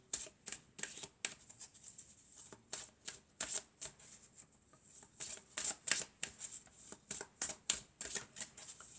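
Tarot cards being shuffled, a quick run of crisp riffling bursts and soft slaps repeating close and clear throughout, with no talk over them.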